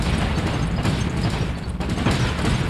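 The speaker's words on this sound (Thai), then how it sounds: "จรวดระเบิดนะ" Rocket explosions in the War Robots mech combat game, a dense run of booming blasts and mechanical clatter that stays loud throughout, with a sharp burst near the end.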